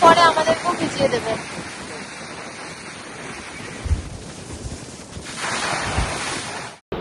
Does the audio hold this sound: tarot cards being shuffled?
no